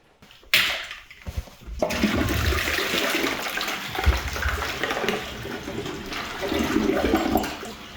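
A walnut wood bidet toilet flushes walnuts still in their shells: a sudden loud rush of water starts after a short silence, then churns and gurgles steadily for several seconds with no talking.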